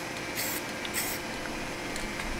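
A spray paint can fired through a trigger rig gives two short hissing bursts, then a fainter third, close up over steady background noise.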